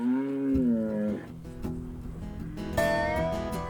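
Cattle on a farm give two long, resonant moos, the first drawn out and falling, the second starting sharply after a short pause, fairly close and clear against a quiet background.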